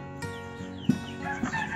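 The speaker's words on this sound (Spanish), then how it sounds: "Tengo una gallina con un pollito chiquitino." Chickens, including a hen with a tiny chick, cluck softly in short, scattered calls nearby, with faint shuffling in the background.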